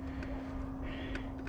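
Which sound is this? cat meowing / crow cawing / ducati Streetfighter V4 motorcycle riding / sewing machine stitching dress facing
crow cawing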